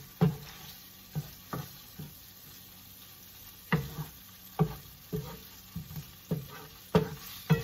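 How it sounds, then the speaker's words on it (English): Sweet bread fries in a pan with a continuous soft sizzle, broken by a series of sharp scraping and knocking hits at irregular intervals, close and fairly loud, with no talking. "it's still frying up"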